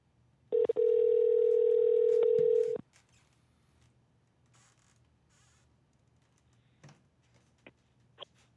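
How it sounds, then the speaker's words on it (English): An outgoing phone call sounds one long, loud steady ring tone for about two seconds, followed by near silence with a few faint clicks and taps. "let's see if he's going to answer the phone"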